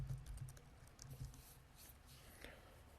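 Faint keystrokes tap on a computer keyboard while a business memo is typed, soft irregular clicks in a quiet room.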